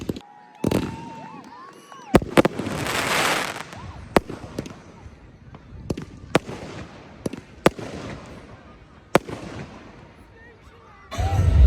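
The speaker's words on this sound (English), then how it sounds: "stay tuned, more to come from the fireworks here in Blackpool." Bonfire Night fireworks in Blackpool: a loud crackling, whistling burst early on, then a run of sharp, evenly spaced bangs echoing one after another, with a faint crowd murmur beneath and a final roar of bursts at the end.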